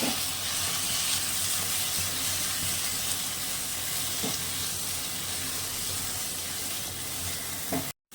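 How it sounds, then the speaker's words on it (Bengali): Poppy seed paste fries with taro leaves and prawns in a pan, giving a steady, dense sizzle and hiss throughout, broken by a few faint stirring taps, close and with no voices. "পোস্ত বাটাটা দিয়ে ভালো করে কষিয়ে নেব"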